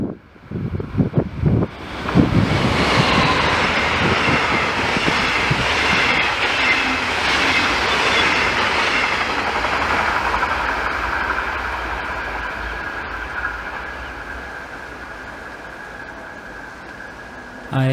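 A regional express train rushes past close by, with sharp clatter at the start, then a long loud roar of wheels and wagons that slowly fades, with no one talking.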